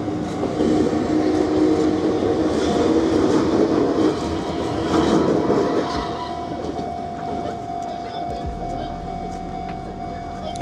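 An Enoden Line train rolls past nearby with a steady rumble and rattling clatter of wheels on rails, fading as it moves on, while people talk over it.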